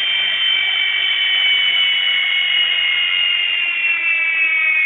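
Continuous high-pitched low battery alarm from a Blade mSR helicopter on a test stand, loud and unbroken throughout, a steady electronic tone with no pauses or talk.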